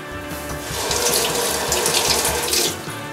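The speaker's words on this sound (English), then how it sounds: "That's another 400 milliliters of water." Tap water runs steadily from a faucet into a bowl being readied for double-fermented poolish pizza dough, a loud, continuous splashing stream that swells slightly and holds without any talk.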